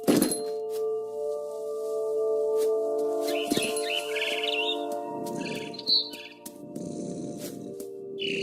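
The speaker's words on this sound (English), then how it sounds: "Then I heard chirping outside my window. It was a barn swallow going back to her nest." A barn swallow chirping outside a window in What Remains of Edith Finch, brief high twittering calls scattered over a steady tonal hum with a few soft thumps.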